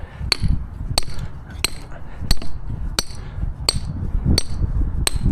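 Hammer driving metal pins into the ground for concrete forms, eight sharp ringing strikes at a steady rhythm of roughly one per second, close and clear over low background rumble.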